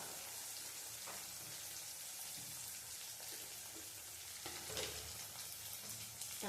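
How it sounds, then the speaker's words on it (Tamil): Tomatoes sauté with a little salt in a pan, giving a soft, steady, rain-like sizzle with a few faint stirring clicks and no talking. "தக்காளி வதங்குறதுக்காக கொஞ்சமாக உப்புத்தூள் சேர்த்து விட்டுட்டு வதக்கி விட்டுடலாம்."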